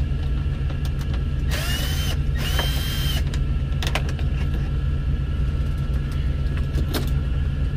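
A power drill backs screws out of a truck's interior panels during a CB radio install, a couple of short whirring bursts up close over a steady engine-like hum, with faint clicks between them.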